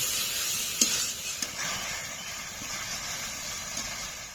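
Mutton curry being sautéed with salt in a pan, a soft continuous sizzle with a few faint scrapes and clicks of stirring.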